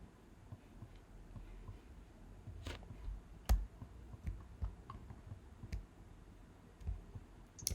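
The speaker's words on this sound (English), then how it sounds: "we can just click on that little invert button" Soft computer mouse clicks, several sparse single clicks spaced irregularly over a quiet room hum.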